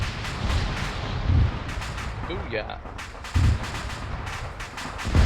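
Explosive breaching charges detonate during military training, sharp booms coming in a few separated bursts amid outdoor noise, with people talking and cheering between them.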